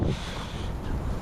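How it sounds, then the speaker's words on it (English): Blustery wind at an RC flying field buffets the microphone as a continuous low rushing roar with gusty fluctuations, loud and close, with no other clear sounds. "It's a bit windy, but not too bad."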